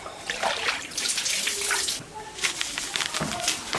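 Water splashes and sloshes as fish (snakehead) are washed by hand, an uneven gurgling stream with bursts of splashing throughout.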